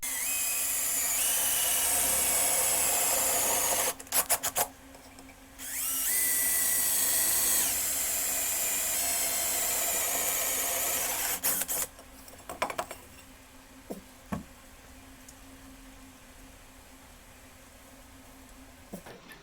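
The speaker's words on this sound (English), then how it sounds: "going ahead and get the mounting holes drilled" Power drill boring mounting holes in sheet metal for an LED taillight on a 1994 Kawasaki Bayou KLF 220, the part backed by wood on a workbench; two long loud whining bursts, then a few short stuttering pulses and quieter shop sounds.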